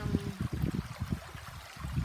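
Water from an underground spring in Guinobatan trickles and gurgles nearby in a steady, soft, continuous flow, with no voices.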